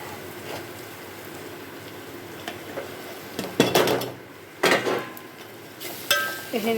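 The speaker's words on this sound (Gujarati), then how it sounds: "હવે આપણે થોડો થોડો કરીને રોટલો છે તે અંદર નાખી દઈશું." Crumbled bajra rotlo, a millet flatbread, tipped by handfuls into a pan of spices, making soft rattling and sizzling bursts at a few separate moments over a low, steady kitchen hiss.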